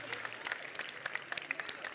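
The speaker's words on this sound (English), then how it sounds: "Big applause from Team 3" A small crowd at a keynote event claps for a winning team, sparse and uneven, fairly faint and distant, with a voice talking over it.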